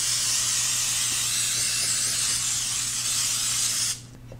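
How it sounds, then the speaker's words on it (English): A steady, loud aerosol hiss of nonstick cooking spray sprayed into a baking dish continuously for about four seconds, then cuts off abruptly, leaving a quiet room. "I'm going to spray it with some nonstick cooking spray."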